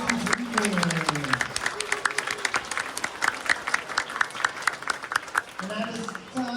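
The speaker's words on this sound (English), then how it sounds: "one more big round of applause for our band and choir for their performance this evening" A middle school winter concert audience applauds the band and choir, dense clapping throughout while someone speaks over it at the start and again at the end.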